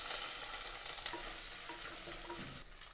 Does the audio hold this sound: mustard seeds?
yes